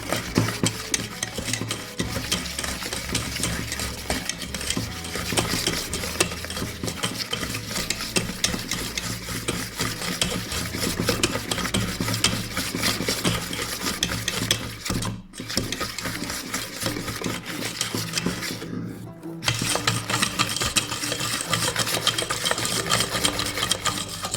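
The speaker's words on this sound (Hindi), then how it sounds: "तो देखिए अपना मिक्सचर हम अच्छे से मिक्स कर रहे हैं।" A biscuit mixture of unsalted butter and salt being mixed, sounding as a dense, continuous rhythmic clatter and scraping that stops briefly twice, close and with no voices.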